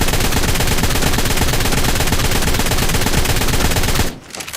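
Assault rifle fire in the video game Ark: Ragnarok: a loud, rapid, unbroken burst of automatic shots that runs for about four seconds and then stops abruptly, leaving only faint background.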